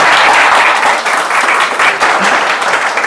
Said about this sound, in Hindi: ताली मार दो यार।